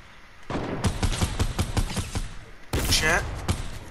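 Rapid bursts of gunfire in a video game shooter crackle in a dense, loud volley, with a heavier blast near the end, under excited talk.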